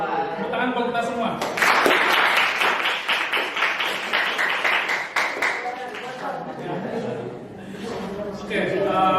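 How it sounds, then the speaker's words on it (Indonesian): Classroom audience of students applauding during a university teaching practice session, a burst of rapid clapping with chuckles and voices mixed in, rising then thinning out with talking around it. "tepuk tangan buat kita semua"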